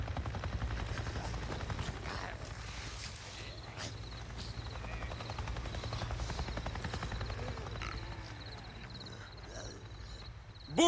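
Helicopter in a video game passing overhead, a steady low rotor thump sustained throughout with faint scattered clicks and pops, no speech over it.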